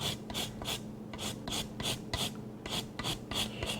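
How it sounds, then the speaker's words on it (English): A fresh lime, just picked from a backyard tree, rasped against a zester in quick repeated strokes, about a dozen short scratchy passes in a steady rhythm, close and clear with no talk. "And then the juice and zest of a lime."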